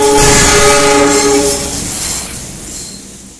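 A CC206 diesel locomotive sounds its horn loudly and close, a sustained harmonic blast that fades out while the rumble of the passing train and rail noise continue and slowly die away.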